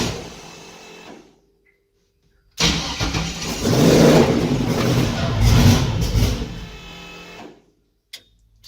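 Twin turbo LS V8 swapped into a Mustang, heard as a loud close engine rumble that builds after a pause, throbbing unevenly for several seconds before cutting off.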